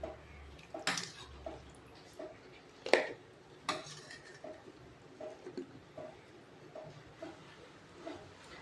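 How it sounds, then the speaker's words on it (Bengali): Bitter gourd and potatoes are washed in water in a home kitchen, with soft splashes and sharp clinks of a metal pot or bowl scattered across the clip. "কাঁকরোল আর আলুটাকে আমি একটু বেশ ভালো করে ধুয়ে নেব"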